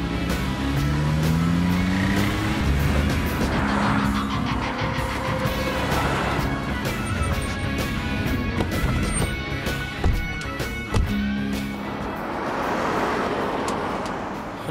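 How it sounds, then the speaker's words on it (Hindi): A car's engine starts and revs as the car pulls away and keeps driving in a tense film scene. The motor sound is sustained and fairly loud, with rising and falling surges over the long stretch. "जल्दी गाड़ी स्टार्ट कीजिए। ड्राइवर चलो।"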